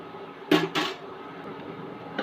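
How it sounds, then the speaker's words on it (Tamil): A metal lid set onto a pot of aloo rice on the stove gives two close clanks in quick succession, followed by a quieter knock a moment later, with no talking. "மூடி போட்டு மூடி வச்சிடலாம்."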